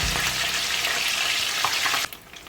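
Fish sizzles and crackles in hot oil, loud and steady, with a brief scrape as it is turned over before the frying drops away abruptly near the end.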